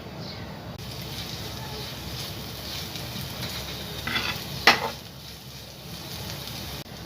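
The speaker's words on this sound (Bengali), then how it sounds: "এরপর এখানে আমি তেলটা গরম হয়ে গেলে পেঁয়াজগুলো ভেজে নিচ্ছি" Steady sizzling and crackling of onions frying in hot mustard oil, with a brief clatter of stirring partway through.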